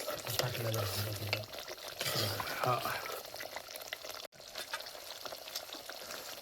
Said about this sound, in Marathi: आपण टाकू याच्यात आता मटणाचे पीसेस